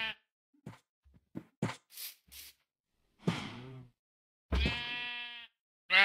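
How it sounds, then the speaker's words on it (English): A cow in the game Minecraft gives a few drawn-out, bleating moos, the last one loud and harmonic-rich, separated by short clicks and quiet gaps. "Yeah, that was a cow."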